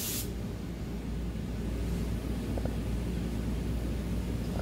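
A spray gun lays paint coats onto an HQ Holden bonnet with a continuous, even airy hiss that runs nearly unbroken and fairly close, with no speech.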